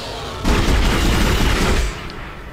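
A weapon firing in the Dead Space video game, one loud roaring blast with a rumbling explosion that lasts over a second and then fades, with no talk.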